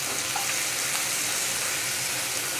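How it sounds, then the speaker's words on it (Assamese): Onions with turmeric frying in a pan, a steady dense hiss of sizzling oil, close and continuous without pauses. "পিঁয়াজখিনি কিন্তু একেবাৰে ৰঙা হ'ব লাগিব তেতিয়ালৈকে মই ভাজি থাকিম"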